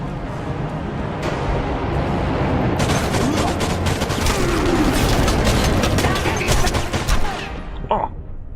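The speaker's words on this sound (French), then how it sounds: "Wow, c'est qui me tire dessus là." Gunfire in the World War video game Enemy Front, a dense, sustained barrage of shots and booms with rapid bursts building through the middle, loud and continuous.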